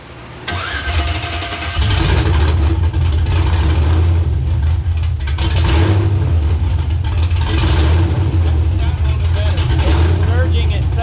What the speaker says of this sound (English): It's surging itself. I'm holding the throttle steady. It's extra cammy.